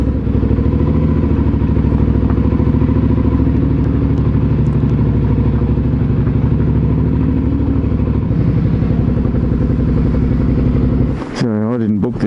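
A Suzuki V-Strom motorbike runs at steady speed on an outback road, its engine droning loudly and continuously, then the note shifts and falters near the end as the rider slows to turn around.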